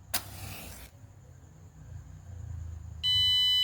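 An Arduino-built fire alarm buzzer switches on abruptly near the end as a steady, loud electronic tone, preceded by a brief scrape and quiet room hum.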